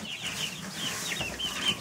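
Young Breez Bar and Lohmann Brown chicks cluck and peep softly while scratching in a bedding of chopped dry meadow hay, a steady, close, busy chatter with no voices.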